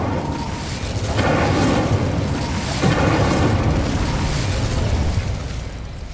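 Incendio fire spell cast in Hogwarts Legacy, a sustained roaring burst of flame filling about five seconds with steady loud rumble, tapering off at the end.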